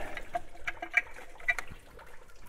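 Coolant water draining from the radiator of a Jeep Grand Cherokee WJ 4.7L into a pan, a low steady splashing trickle with small irregular gurgles, fairly faint and with no talk.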